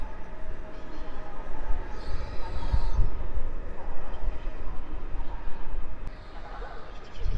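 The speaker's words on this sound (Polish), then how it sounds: "Rusza Griffin ze składem Wybrzeże" Griffin electric locomotive pulling away with the Wybrzeże passenger train at Warszawa Zachodnia station under construction, a steady rumbling roll of wheels and motor at moderate distance with a faint high whine, under station ambience.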